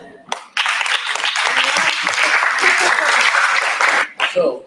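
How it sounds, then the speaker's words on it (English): Sustained applause from a general assembly audience at the IAAS World Congress, a dense wash of many hands clapping for about three and a half seconds before it tapers off. "So one clap for Nastia."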